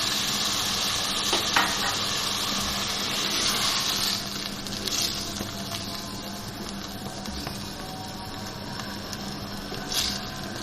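Milk being mixed into lauki halwa in a pot, giving soft stirring and scraping with a few light clinks over a low, steady bubbling hiss, fairly faint and without voices.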